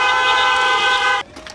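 A car horn honks in one loud, sustained toot at a drive-in style cinema showing, close and steady before cutting off abruptly, with faint crowd noise after.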